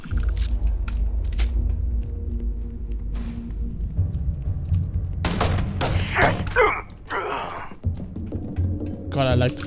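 Pistol gunfire in the No Man's Skyrim video game: sharp, close shots, some in quick clusters, mixed with game effects and someone talking in between.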